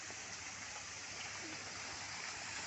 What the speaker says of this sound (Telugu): చూడండి, వాటర్ ఫాల్స్. వాటర్ ఫాల్స్ ఎలా ఉందో.